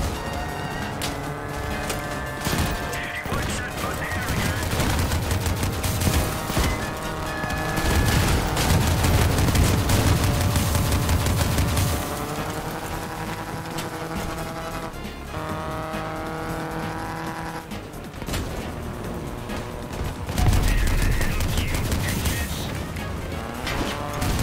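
Gunfire in the vehicle combat game Crossout, rapid shots blended with roaring engines and crashing metal in a dense, continuous battle mix with no clear pauses.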